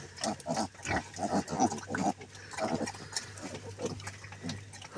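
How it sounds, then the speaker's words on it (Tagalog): Native pig grunting repeatedly in a farm pen, a series of close, rough, irregular grunts and snorts with a steady low hum underneath. "Yung ganyang native na baboy, napakasungit yan."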